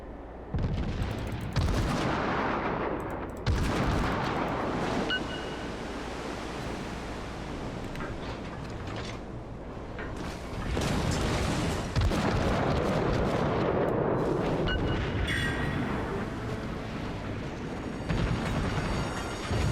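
Warship guns firing in the naval video game World of Warships, heard as repeated heavy booming blasts with rumbling noise that fills the whole stretch, loud and dense, with no voices.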